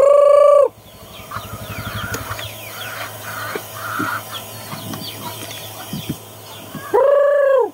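Small chickens cluck and chatter close by in a yard, with busy overlapping calls and short squawks between two loud, sharp bursts at the start and end.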